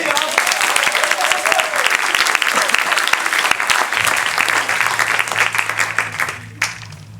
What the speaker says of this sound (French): Mesdames, messieurs, veuillez applaudir Martin